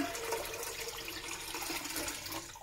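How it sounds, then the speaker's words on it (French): Cold water runs steadily into a cooking pot, filling it with plenty of water for vegetables; a continuous, fairly close splashing stream with no talk. "Je mets beaucoup d'eau parce que je veux qu'il y ait suffisamment d'eau pour tous les légumes en fait."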